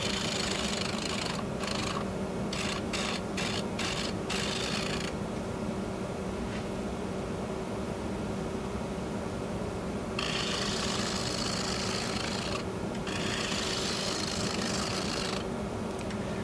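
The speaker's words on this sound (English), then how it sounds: "now I'm going to just do a little more shaping, do a little scraping" Lathe spinning a natural-edge walnut bowl while a tool scrapes and shapes it, giving a continuous loud rasping, rubbing noise over a steady motor hum, with tool contact breaking in and out in short bursts.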